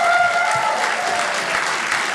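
An audience at a stand-up comedy show claps in response to a comedian's show of hands by applause, a dense, steady round of clapping that fills the room evenly for the whole stretch without letting up.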